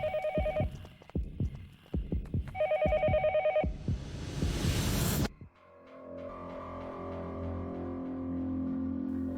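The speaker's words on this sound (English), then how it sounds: "The phone is ringing." A telephone rings in the Japanese horror video game Yomawari: Night Alone, giving two loud repeated trill bursts over a throbbing heartbeat-like pulse, then a swelling noise burst that cuts off into a low droning game ambience.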